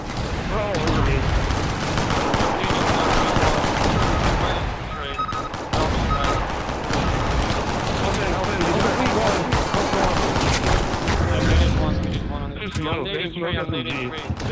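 SMG gunfire in the Shadowrun video game rattles in dense, sustained bursts throughout, mixed with other combat noise and heard under ongoing players' talk, thinning out near the end.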